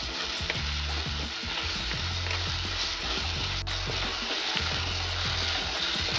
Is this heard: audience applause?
no